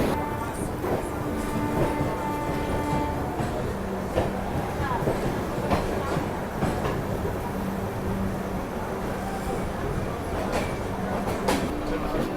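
The Gujarat Sampark Kranti Express pulls out of Ratlam station, a steady rumble and rattle of rolling carriages heard from inside the train, with faint clicks and background chatter throughout.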